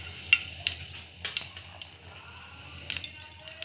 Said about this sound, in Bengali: তেলটা গরম হয়ে গেছে, এর মধ্যে আমি দিয়ে নিচ্ছি একটুখানি শুকনো লঙ্কা আর কিছুটা কালো জিরে